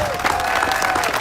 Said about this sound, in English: Let's please give him a round of applause.